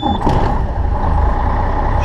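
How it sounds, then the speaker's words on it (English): Truck engine catching and settling into a loud, steady low rumble heard close up, with a brief higher whine near the start. "So I'm going to start the truck."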